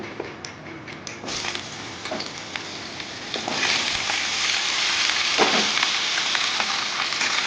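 Mixed vegetables hit hot oil already seasoned with bay leaves and dried chilli, and a steady close sizzle builds louder as they fry, with scattered clicks of stirring and no voices.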